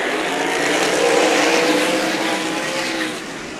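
Sprint cars race at Meridian Speedway during the Diamond Cup, a loud continuous engine roar that swells as the pack passes close by, then eases slightly as the cars pull away.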